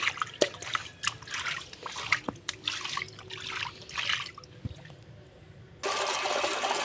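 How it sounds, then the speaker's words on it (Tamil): Water from a motor pump flowing into a fish tank during cleaning, with irregular trickles, drips and splashes that give way to a steady, louder rush of pouring water near the end. "இப்போ தண்ணி பாஞ்சிட்டு இருக்கு."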